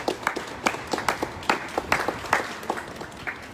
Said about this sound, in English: I just want to give an applause to the members of the Mosser Tenants Association